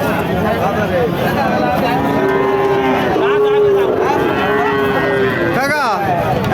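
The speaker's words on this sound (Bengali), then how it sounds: "যশোর জেলা সাত মাইল গরুরহাটে দেশি জাতের গরু দর্শক হালের বলদ" Native breed plough bullocks at the Seven Mile cattle market in Jessore district, several loud drawn-out moos from nearby cattle, one after another, over constant crowd chatter and market noise.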